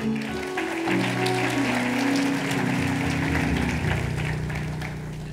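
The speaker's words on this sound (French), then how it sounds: "Tu peux acclamer la parole du Seigneur" Church congregation bursting into warm applause, sustained clapping filling the room over soft sustained organ or keyboard chords.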